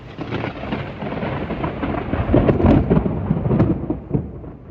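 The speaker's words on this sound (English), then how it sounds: "A big ass storm is coming." Thunder from an approaching storm rolls in as a deep, loud rumble that swells and crackles over a few seconds, with a couple of sharper cracks near the end and no voices.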